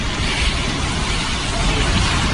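Category 4 Hurricane Maria striking Puerto Rico: a dense, steady roar of wind and rain that fills the space evenly throughout, with no voices.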